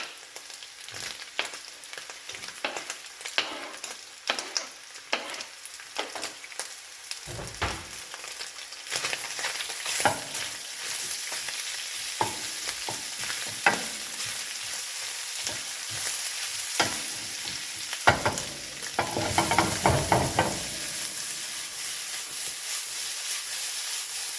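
Onions for beef stew fry and sizzle in a pan under a steady hiss, with repeated scraping stir strokes coming through at irregular intervals, close and moderately loud throughout.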